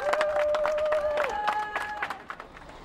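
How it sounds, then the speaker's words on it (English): Applause and crowd noise greet a Tour de France rider as he walks to his team bus before the 2006 Morzine stage, steady clapping mixed with a sustained whistle-like tone and scattered voices. "The applause on his way to the team bus clearly adding a skip to his painful steps."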